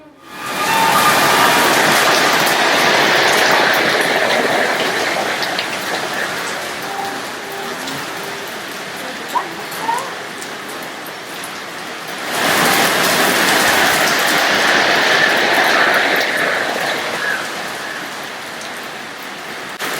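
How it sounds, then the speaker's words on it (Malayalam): Heavy rain pours steadily in a dense, hissing roar that dips briefly midway and then swells back, with no voices. "മഴ തകർത്ത് പെയ്യുന്നുണ്ട് കേട്ടോ"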